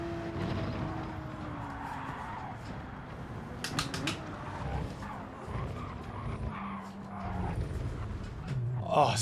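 Race car tires squealing and skidding as it spins at Le Mans in Gran Turismo 7, with engine drone and sliding screeches under a voice talking throughout.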